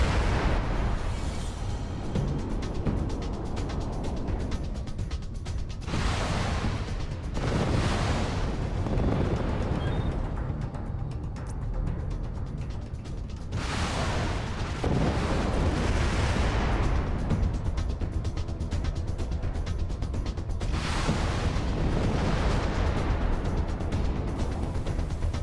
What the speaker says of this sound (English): So there he is, I fire my missiles at him.